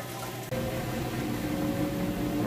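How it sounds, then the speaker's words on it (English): A Whirlpool washer fills with water during its rinse cycle, giving a steady, even hum of flowing water and running motor after a brief click, continuous and fairly close. "It's continuing to add water to rinse as it moves through and gets all the soap"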